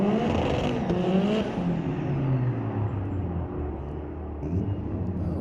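Two Ford drag racing cars at Mission Raceway Park, during Friday night street-legal drags, roar loudly at full throttle, their engine note sliding lower as they pull away into the distance.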